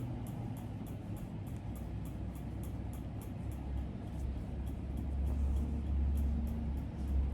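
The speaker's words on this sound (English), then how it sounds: "Can you hear all that traffic out there?" Steady, busy road traffic rumbles outside a fabric shop on a Thursday afternoon, a continuous low drone of passing cars and heavier vehicles that swells slightly toward the end, heard at a distance.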